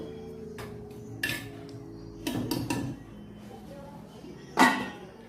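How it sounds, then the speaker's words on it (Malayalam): A spoon scrapes and clinks against a pot while fish curry is stirred, with several sharp metallic knocks and a louder clank near the end over a low background hum. "നന്നായി ഒന്ന് ഇളക്കി കൊടുക്കാം"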